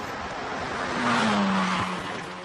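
Lotus Esprit sports car cornering on a dry race track, its tires letting out a sustained rising squeal over steady engine drone, loudest mid-pass before easing off, with no voices.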